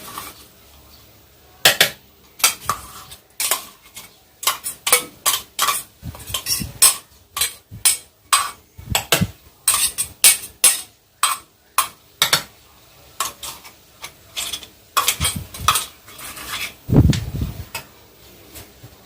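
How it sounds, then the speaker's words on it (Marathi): Ground masala is worked into mashed potatoes for aloo paratha with a long run of close, irregular spoon knocks and scrapes against a bowl, some sharp and clinking, others dull and soft. "आपण त्याच्यात मसाला मिक्स करून घेऊ"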